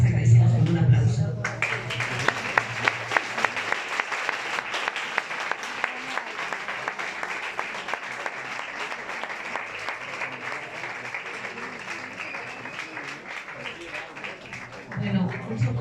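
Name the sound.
audience applause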